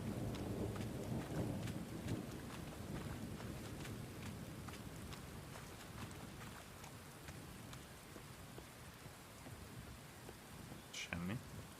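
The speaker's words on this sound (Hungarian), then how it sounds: "Tetszik ez az esős, borongós dolog." Steady rain and rolling thunder from a stormy, gloomy swamp scene in a video game, a continuous wash of downpour with repeated thunder rumbles throughout and a brief sharper crack near the end.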